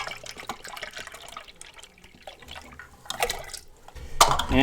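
Mango juice is poured into a tiki bar punch, a short splashy trickle of liquid with a few louder sloshes and drips toward the end.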